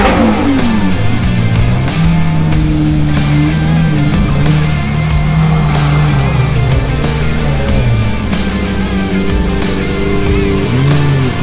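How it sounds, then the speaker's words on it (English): A loud stock car engine revs hard and drones continuously close by, with rising and falling pitch sweeps and no talk over it, recorded on the Gumball 3000 rally. "How loud that car is."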